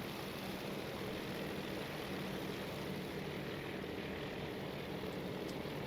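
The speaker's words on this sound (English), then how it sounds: "Still got aircraft taking off, as you can see." Aircraft taking off from a carrier in a naval warfare simulator make a steady, droning propeller engine roar that holds at an even, moderate level throughout, with no talking.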